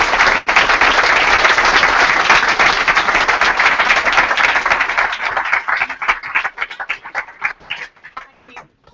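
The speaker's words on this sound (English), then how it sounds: "Grab a round of applause." Audience applause after a talk at an anniversary celebration event: dense, loud clapping that holds steady for several seconds, then thins into scattered individual claps before fading out.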